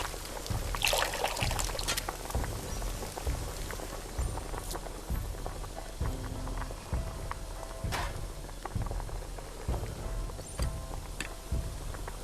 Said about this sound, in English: Dip the teapot in the water bucket to fill it.